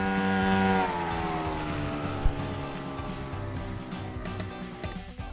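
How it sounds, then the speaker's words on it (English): A motor scooter engine gives a faint, steady drone with a slight change in pitch near the start. It runs alone without voices. "Motor scooter."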